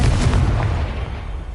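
A spell explosion in the Hogwarts Legacy video game, a loud, dense blast of rumbling low-end noise filling the whole moment and slowly easing off without a clear decay.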